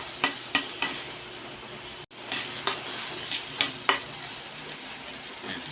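Squid adobo is stirred and fried in a pan, giving a steady sizzle broken by several sharp scraping knocks of the utensil and a brief dropout, with no talking.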